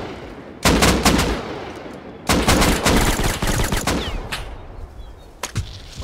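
Gunfire in the video game Rust: two loud bursts of rapid automatic shots, the second longer and trailing off into scattered single cracks, with a final lone shot near the end.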